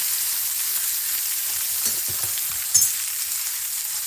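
Oil sizzles in a skillet for machaca with egg, shredded beef and vegetables, a steady bright hiss with a few low knocks and one sharp clink near the end.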